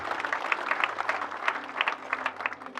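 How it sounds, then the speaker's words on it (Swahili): Congregation at a church service clapping steadily in a dense, continuous patter of many hands, fairly close and moderately loud, with no talk over it. "Mpigieni makofi mazuri"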